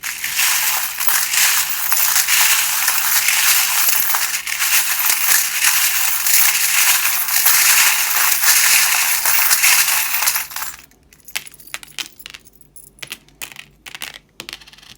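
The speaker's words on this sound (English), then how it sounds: "you don't like the sound of the charms, do turn the volume down just for a moment while I shuffle them" Tarot charms shuffled by hand give a dense, continuous, close rattling clatter for about ten seconds, which then thins to scattered sharp clicks and knocks.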